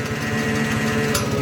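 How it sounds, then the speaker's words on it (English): Hydraulic pump on an old tractor running close and loud, a steady fast mechanical chatter with an even pulsing rhythm and no speech. "That's my hydraulic pump."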